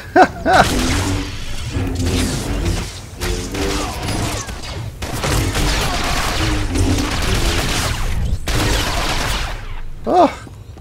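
Rapid bursts of blaster gunfire in Star Wars: The Old Republic come in repeated volleys with short gaps, loud and close, with brief sharp effects at the start and end.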